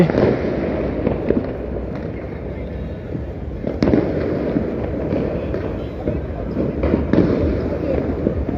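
New Year's Eve fireworks burst over Dhaka as heard from Rupayan Tower, a loud, continuous crackle and pop of many distant explosions, with a voice talking over them.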